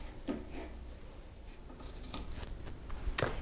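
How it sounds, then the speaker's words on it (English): A few short scissor snips trimming excess soft felt from a harp pedal, close and fairly quiet, with light rubbing between cuts. "now I'm going to go ahead and trim off this excess piece of felt with some scissors"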